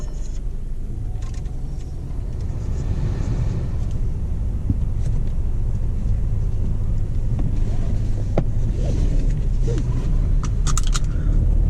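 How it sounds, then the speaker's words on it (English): 2014 Volkswagen Passat TSI SE with a six-speed automatic heard from inside while driving on the road, a steady low rumble of engine and tyres with faint rattles, quiet and even throughout. "Alright, driving the Passat. It's very quiet."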